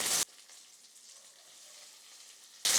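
Sliced onion dropped into hot oil with garlic in a pan for tandoori chicken fried rice, a brief loud sizzle burst at the start and end with a softer, steady frying hiss in between.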